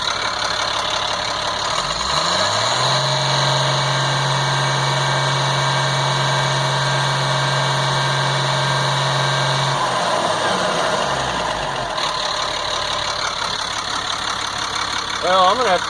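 A 1998 GMC C8500 truck's Caterpillar 3116E diesel engine idles steadily and loudly up close, a low drone that settles in after startup and drops away near the end, with someone talking over it.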